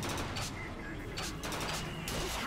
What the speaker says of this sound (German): Ich bleib einfach stehen und schieße